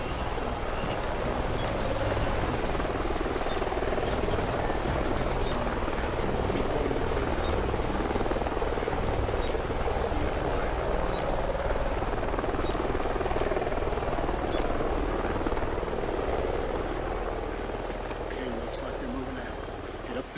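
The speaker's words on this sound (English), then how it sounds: "Sounds like a chopper's up ahead of us." A helicopter in the Call of Duty: Ghosts campaign gives a continuous, fairly loud rotor thrum in a canyon by a stream. It holds steady, then fades slightly toward the end, with voices talking over it.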